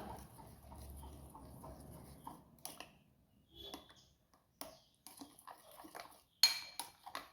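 A banana mixture is stirred with ghee in a bowl, giving faint, scattered clinks and scrapes of a utensil against the bowl in irregular bursts, with one sharper knock near the end and no talk.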